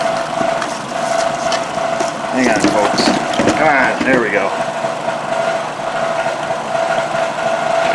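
A Toyota Highlander idles up close with a loose, rattling exhaust clattering over the steady engine hum, while someone talks briefly over it.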